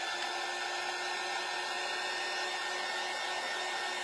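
A hair dryer blows steadily to dry paint on a craft door hanger, a continuous loud whooshing hum with a faint high whine, running alone without talk.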